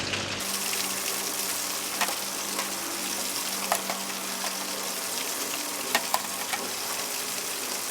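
Food frying on a griddle hisses in a steady sizzle with small crackles and pops over a low hum, continuous and close, with no one talking.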